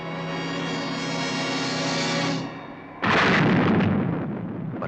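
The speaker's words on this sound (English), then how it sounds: "It seemed like an eternity before that missile struck home." A Sting missile from the Stingray submarine streaks in with a rising whoosh, then strikes an enemy craft in a loud, sudden explosion that rumbles and crackles before fading.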